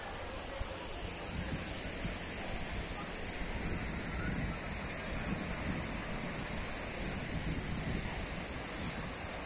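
Surf breaks along a wild, rocky beach at Kỳ Xuân, Kỳ Anh, Hà Tĩnh, lined with casuarina trees, as a dense, continuous wash of noise with wind mixed in, fairly faint and steady with no clear individual breakers.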